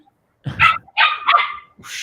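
A new puppy barks and yips nearby in several sharp, high bursts, loud and close, with short gaps between them.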